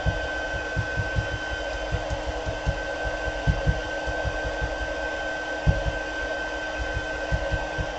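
Embossing heat tool blowing hot air steadily over an embossing skin, a constant whooshing hiss with a thin whine and irregular low thumps underneath, no talking.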